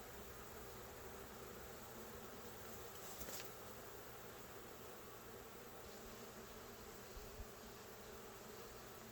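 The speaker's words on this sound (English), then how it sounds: "They're happy that they're going back in the box and buzzing" Dense, steady buzzing of many honeybees around a hive during an inspection fills the whole stretch, close and continuous with no voices.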